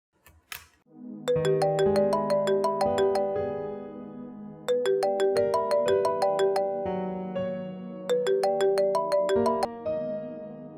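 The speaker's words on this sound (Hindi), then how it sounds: "आज माया की जगह तुमने फोन किया।" A telephone rings with a melodic electronic ringtone in a Pakistani TV drama, three loud, clear bursts of repeated chiming notes separated by short gaps, with no talk over it.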